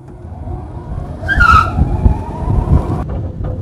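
A small electric-converted 1967 Austin Mini Moke pulls away up close with a low rumbling motor and a brief high squeal, wind and road noise continuing as it moves.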